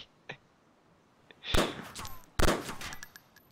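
Gunfire in the video game DayZ, with a few faint clicks at first and then two loud, sharp shots, each trailing off into a rumbling echo.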